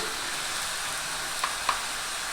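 Shredded winter cabbage with turmeric and salt fries in a pan, giving a steady, even sizzling hiss with two small crackles near the end.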